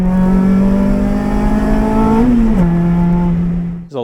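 First-generation Honda CRX with a swapped K24 engine revving hard, a loud rising rasp that climbs, dips with a shift and then holds, close and alone.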